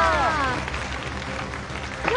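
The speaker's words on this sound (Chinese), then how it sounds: "掌声鼓励一下" Studio audience on a Beijing TV dating show breaks into applause, a dense clapping wash with crowd murmur that swells at the start and rises again at the end.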